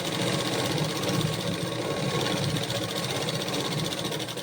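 Sewing machine stitching piping cord, a steady fast mechanical whirring and rapid needle rattle running continuously, close and even in loudness.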